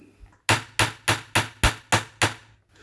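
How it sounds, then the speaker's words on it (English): A rivet is hammered over on a case bracket of an RCA Victor 26BP portable radio: seven sharp, evenly spaced metallic hammer blows, close and loud, with no talking. "I'll cut that off to the right length and then rivet it over"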